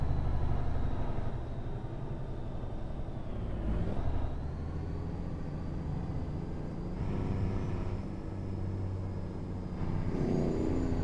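Heavy-haul truck engine drones steadily in American Truck Simulator, a loud continuous low rumble with a faint rising whine and slight swells as another truck passes nearby.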